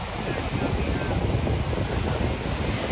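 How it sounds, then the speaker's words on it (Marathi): Wind buffets the microphone over steady surf at Anjuna Beach in Goa, a continuous rough roar with no clear breaks. "अंजुना बीच हा गोवामधला फुल फेमस बीच आहे"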